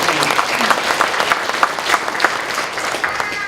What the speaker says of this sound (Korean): 일단 이거 박수를 한번 쳐야 될 내용인 것 같아요.